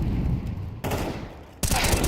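Desert Eagle gunfire in a Counter-Strike match: two loud shots burst close together about a second apart, each ringing out over a steady din of game noise.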